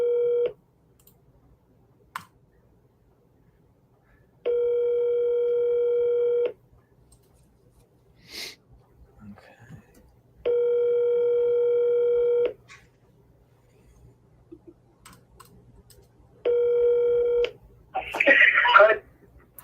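Touch-tone dialing on a triple-dial sales call to sellers: three separate two-second bursts of steady stacked tones spaced several seconds apart, clear and fairly loud, with a brief rustle of other noise after the last burst.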